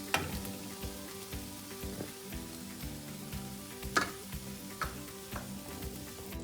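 Vegetable sandwich filling, made without potato, frying in a pan as a steady close sizzle, with occasional sharp taps and scrapes from stirring throughout.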